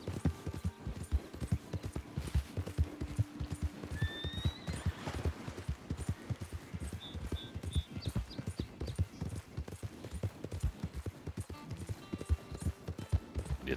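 In Red Dead Redemption 2 Online, rapid, rhythmic hoofbeats of a galloping horse pound steadily throughout, with a brief whinny partway through.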